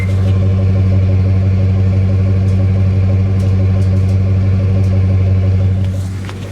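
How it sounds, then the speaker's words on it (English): A 267,000-mile Ford Expedition with a Triton engine idles with the microphone held near its exhaust, a loud, steady, even low rumble that holds for several seconds before easing slightly at the end. "Listen to this exhaust."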